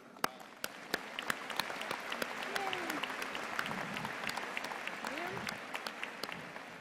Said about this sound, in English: we join your family and friends in applauding you